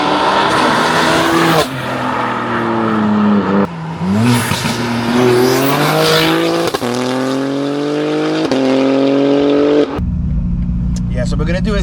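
An 880 bhp BMW M4 G83 launches hard from a standstill, its engine roaring and climbing through several gear changes with a strained, rising note up close, while people talk over it. The run ends in a sudden cut to quieter idling.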